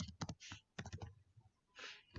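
C++ code being typed on a computer keyboard, with quick bursts of close, quiet key clicks separated by brief pauses.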